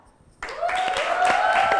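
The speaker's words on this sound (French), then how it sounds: "on applaudit encore pour ce très très beau poème" An audience applauds a children's poem recital by young visitors from Kigali; dense, steady clapping swells in suddenly after a quiet start and continues at full strength to the end.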